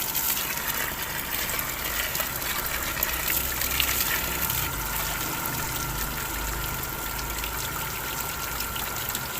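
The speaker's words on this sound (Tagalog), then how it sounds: "Yan, ganyan kalakas yung tubig." Water pours steadily from the outlet of a Mitsushi water pump fed through PVC pipe, a constant close rushing gush that holds at an even level throughout, with no voices.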